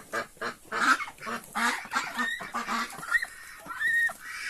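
Farmyard ducks, including a white one, honk and quack close by in a run of loud, rough bursts, some overlapping and some calls rising in pitch.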